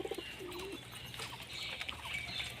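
A female pigeon giving a low, soft coo near the start, followed by faint chirps and light rustling in a quiet, slightly hissy setting.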